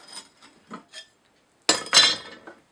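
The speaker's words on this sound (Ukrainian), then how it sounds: "І ставимо на плиту" Metal pot set down on a stove in a home kitchen: a few light clinks and taps, then a louder clattering clank as it lands, close and alone without talk.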